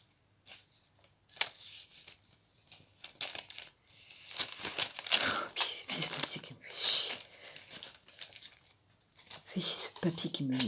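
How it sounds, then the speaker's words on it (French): Sheets of paper crumpled, torn and shuffled in the hands, a crisp crackling and rustling in bursts that stay close, with a voice speaking in between. "Ce papier qui me gêne."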